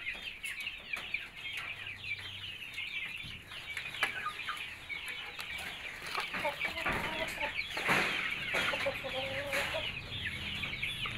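Young Bangkok chickens about two and a half months old cluck and chirp near the recorder, a busy, overlapping chatter of short calls with shuffling and a few soft knocks in the background.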